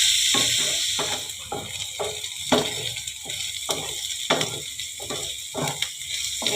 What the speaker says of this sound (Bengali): হালকা ভাজা করতে হবে এটাকে, বেশি লাল করে ভাজা যাবে না